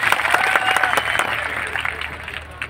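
An audience claps together at a public speech, a dense burst of applause that gradually thins and fades over a few seconds, with no voice over it.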